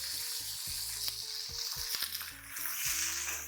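Onion, garlic, green chilli and tomato sautéing in a pan for a Pondicherry wedding-style kara kuzhambu, making a soft, continuous sizzle over a faint tonal hum.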